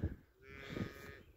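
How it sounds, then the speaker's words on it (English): Cows in a saturated, waterlogged field give a couple of low moos, faint and at some distance, one right at the start and another partway through, with nobody speaking. "And poor cows, I feel bad for these cows, I really do."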